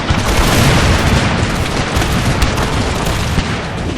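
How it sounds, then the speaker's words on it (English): Dense, continuous battlefield roar of artillery fire and volleys in the strategy game Total War: Empire, during an invasion of Spain, with booms and crackling shots layered loudly over one another throughout. "This was also supported by well-placed artillery shots, and the enemy broke"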